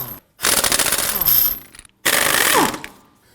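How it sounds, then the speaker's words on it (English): An impact wrench with a 19mm socket loosens lug nuts on the rear wheel of a 2003-2014 Volvo XC90. Two loud, close rattling bursts of about a second and a half each are separated by a short pause, with no talk. "Using a 19mm socket, we want to get it loosened and remove our lug nuts."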